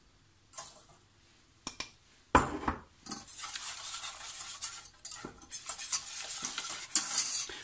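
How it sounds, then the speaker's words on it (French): Lemon cake mixture of cornstarch and sugar is stirred quickly in a bowl with a utensil, producing soft scraping and clinking strokes that grow into steady brisk swishing, close and fairly quiet, with no voices. "On mélange comme il faut rapidement."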